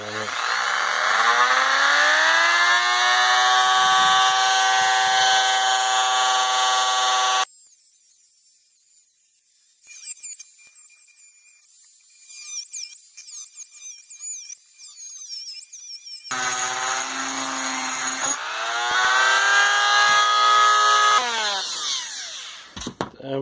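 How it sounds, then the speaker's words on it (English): A Dremel with a small cut-off wheel cuts through cast metal from a lost-foam casting, giving a loud, high whining grind. The wheel spins down, pauses for a stretch of quieter rattling, then winds back up and cuts again before stopping. "I got my Dremel with a little cut off wheel on it"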